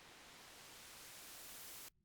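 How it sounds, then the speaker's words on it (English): Synthesizer static effect with its density turned up, giving a dense, steady hiss like white noise that fills the clip at even loudness and then cuts off abruptly near the end. "when you turn it up, you basically end up with white noise again"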